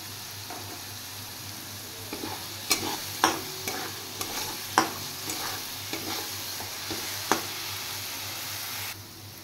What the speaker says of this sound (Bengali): এবার এটা আর একটু ফ্রাই করব আমি, তাহলে পোস্তর কাঁচা গন্ধটা চলে যাবে।